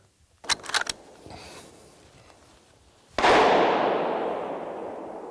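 Gunfire during a hunt in the Russian countryside: a few quick sharp clicks, then one booming shot whose echo rolls out and slowly fades across the open ground.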